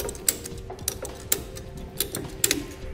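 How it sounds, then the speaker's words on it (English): A ProGrip ratchet tie-down strap being ratcheted tight, giving a series of sharp mechanical clicks spaced roughly every half second, up close and clear over a faint background hum. "It's just time to work our ratchet around."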